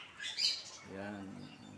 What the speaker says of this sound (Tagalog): Green pigeon.